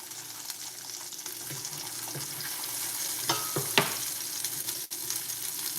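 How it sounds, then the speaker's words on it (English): Burgers sizzle steadily on a cooking surface as they are flipped, with a constant frying hiss and a few sharp scraping clatters of the spatula near the middle, close by and with no talk. "now we're gonna go ahead and flip our burgers"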